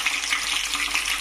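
Green chillies dropped into hot oil in a pan with tempering spices, giving a steady, close sizzling hiss that holds evenly throughout, with no talk.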